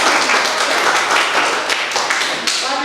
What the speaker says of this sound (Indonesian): Kasih tepuk tangan untuk Mas Abdul.